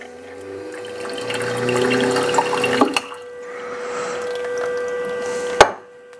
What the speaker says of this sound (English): Let's flush the group head.